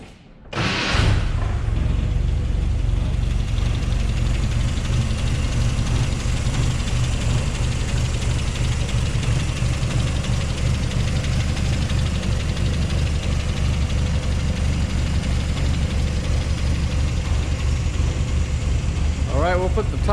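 A 1959 Triumph TR3 engine idling with the hood up, a steady, close, loud low rumble that starts abruptly and runs unbroken throughout, with no talking over it.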